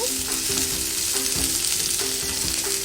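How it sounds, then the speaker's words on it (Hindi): Chopped green chillies and onion sizzle lightly in a pan for paneer chilli, a steady hiss of frying broken by rhythmic scrapes as the mix is stirred. "ये ग्रीन चिली जो लिया था कटे हुए उसको ऐड कर रही हूँ एंड कटे हुए अनियन। इसको हल्का सा हम भूनेंगे"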